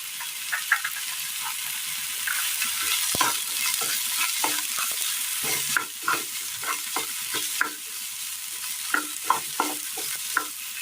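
Chopped onion and eggplant sauté in a pan under a steady sizzle, with frequent sharp scrapes and taps of a utensil stirring close by and no talking.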